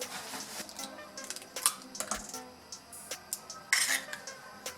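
Tea cake batter being beaten with eggs, heard as fairly quiet, irregular scraping and clinking of a utensil against a bowl, with a few sharper taps.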